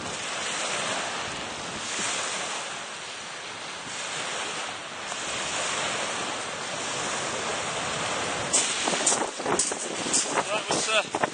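Sea waves wash steadily at Weston in a continuous roar, with strong wind buffeting the microphone. Sharper splashes break through near the end.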